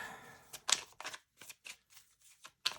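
A tarot deck is shuffled by hand, a series of crisp riffling and slapping card bursts with short gaps, close and quiet.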